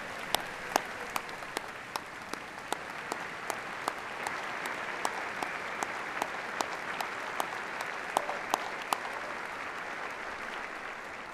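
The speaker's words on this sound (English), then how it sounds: "Please rise and get a round of applause from our graduates and their families." A graduation audience at Neenah High School's 2022 ceremony applauding the school staff, a broad even wash of clapping from a large hall with faint sharp claps standing out, fairly distant and steady throughout.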